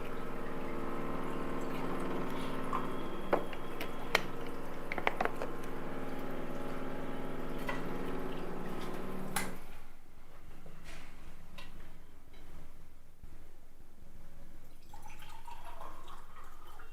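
A Kangen water ionizer dispenses 9.5 pH alkaline water. A steady stream of liquid runs with scattered drips, then eases into a quieter trickle.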